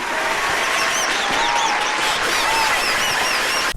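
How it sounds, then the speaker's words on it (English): Steady applause with whistle-like chirps layered on top, even and continuous throughout, with no voices. "Hold for applause."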